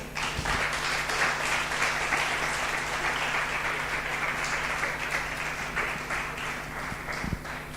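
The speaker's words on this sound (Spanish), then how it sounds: "Dale ese aplauso al Señor" Steady applause from a church congregation fills the room, a dense, even wash of clapping that holds at moderate volume from start to finish with no voices over it.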